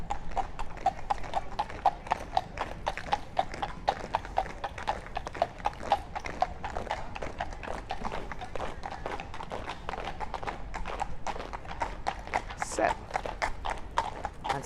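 Hooves of the Horse Guards' horses clip-clop steadily on the road near Buckingham Palace during the Changing of the Guard, a dense, continuous clatter of many animals, with voices talking over it.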